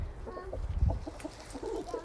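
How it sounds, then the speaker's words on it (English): Pet laying hens kept in a coop give soft, scattered clucks and low murmurs, close by and fairly quiet, over a low background rumble. "these are my hens that we keep in here because there are egg layers"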